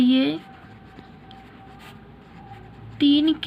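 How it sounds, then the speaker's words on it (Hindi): Writing on a board during a maths lesson, a faint steady scratching stroke between a woman's spoken bursts at the start and end. "3 के लिए पहले मैं लिखती हूँ यहाँ पर"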